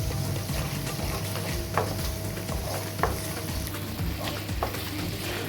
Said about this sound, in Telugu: మన మసాలా ఏదైతే ఉందో మ్యాక్సిమం ఫ్రై అవుతుంది